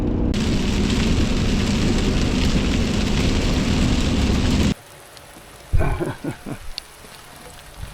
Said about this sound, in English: it's trying to rain on me, man.